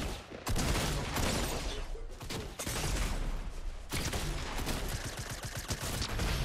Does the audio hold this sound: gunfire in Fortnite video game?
yes